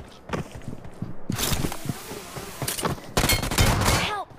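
Rapid gunfire bursts in a shooter video game, including shotgun blasts, crackling in loud clusters amid footsteps and game effects, with a brief quiet stretch between volleys.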